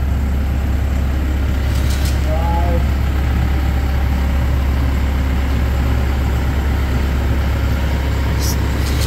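A John Deere 60G mini excavator runs steadily while its upper structure slews round, a constant low diesel drone holding level throughout with no talk over it.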